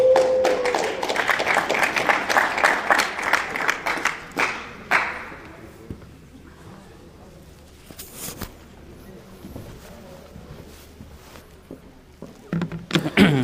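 An audience at an EMET talk by a rabbi claps in a scattered burst for the first few seconds, then the applause thins out and dies to near quiet with only a few stray taps.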